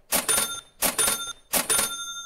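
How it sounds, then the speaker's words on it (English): Three identical cha-ching cash register sound effects ring out in quick succession, each a bright metallic bell-and-drawer burst about half a second long, loud and isolated with short silences between. "And let me hit that cha-ching button for him."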